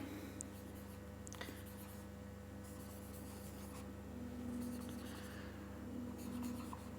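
Pen writing on paper during a Hindi classroom lesson, a soft steady scratching that runs continuously for several seconds under a faint background hum, with no talk.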